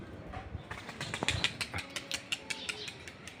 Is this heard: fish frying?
no